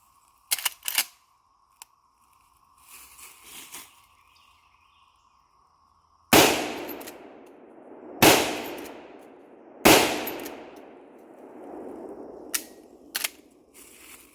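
Three loud, close gunshots from a 2009 Marlin 336 30-30 lever-action guide gun, spaced a couple of seconds apart, each with a reverberating tail and lever clicks and handling noise in between.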